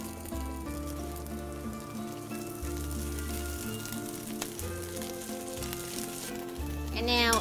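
Spinach and garlic shoots sizzling in a hot pan for Catalan-style spinach, a steady frying hiss under loud tonal background music, with a brief clatter near the end.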